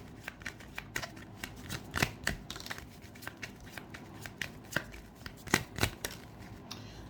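Tarot cards being shuffled in a quiet room: a steady run of crisp riffling and flicking bursts, close to the listener, with a few sharper snaps standing out and no talking.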